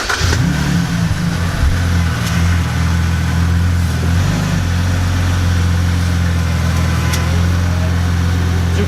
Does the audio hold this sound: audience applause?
no